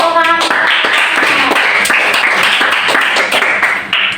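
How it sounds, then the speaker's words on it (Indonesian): Students in an Indonesian classroom clap together, an uneven, close patter of hands that carries on steadily for a few seconds after a brief spoken phrase at the start. "Luar biasa, tepuk tangan."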